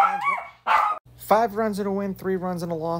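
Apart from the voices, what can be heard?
dog barking in the background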